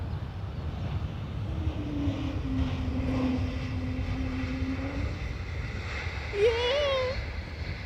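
A KLM airliner landing at Dublin Airport with thrust reversers deployed, a broad steady roar of engine noise rising slightly near the end, with a voice heard briefly over it.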